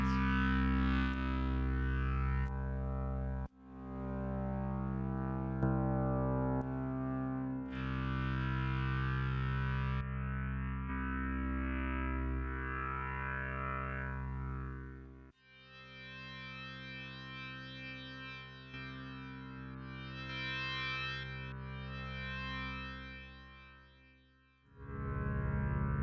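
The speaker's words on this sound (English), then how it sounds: "Sounds like a bass distortion, obviously." A synth pad in Ableton runs through a bass distortion effect with the drive set low, giving sustained, buzzing, harmonically rich drone chords that shift in a few places, with brief gaps between them and no talk.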